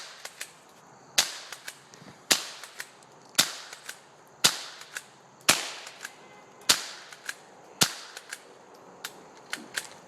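Sharp gunshots from a loaded gun fired outdoors, about a dozen loud cracks spaced at irregular intervals of roughly half a second to a second, each with a short ringing tail.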